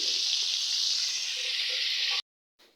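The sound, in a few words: frying prawns with Malabar spinach in pan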